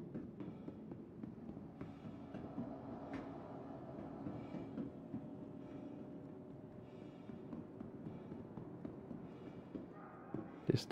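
A tram in the video game Star Citizen, set in ArcCorp, rolls along with a low, steady rumble and soft rattling that holds throughout, faint and without voices.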